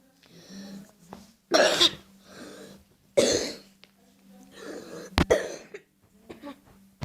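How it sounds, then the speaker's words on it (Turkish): Several harsh, close coughs come in separate bursts with short pauses between them, and a voice murmurs faintly in the gaps. "Ondan öksürüyorum işte."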